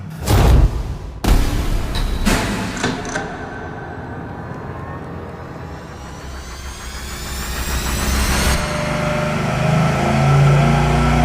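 A V8 engine on a test dyno settles into a steady idle with a straight exhaust setup, a loud continuous rumble that swells slightly toward the end, preceded by a few sharp clanks at the start.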